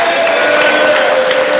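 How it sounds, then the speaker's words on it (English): An audience at a meet-the-candidates voter forum applauds, a steady, dense wash of clapping that fills the whole short stretch at close, even loudness. "Please clap it up for Jalila Jefferson Bullock."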